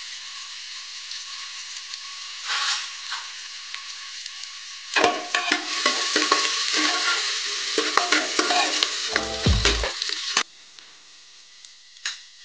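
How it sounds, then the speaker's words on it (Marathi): Finely chopped onion drops into hot oil with a sudden loud burst of crackling sizzle, then spatters and hisses under stirring for several seconds before dying down to a quieter fry, with no talk. "आता आपण जो कांदा बारीक चिरून घेतलाय तो टाकूया"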